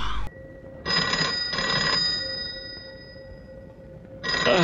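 An old-style landline telephone bell rings loudly in an indoor setting, sounding in two bursts with a brief gap, falls quiet for a couple of seconds, then starts ringing again near the end.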